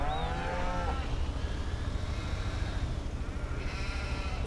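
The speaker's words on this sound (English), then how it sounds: "Got plenty of sheep in there." Sheep bleat in a pen on a farm, a few close, wavering bleats early on and another toward the end, over a steady rumble of wind and background noise.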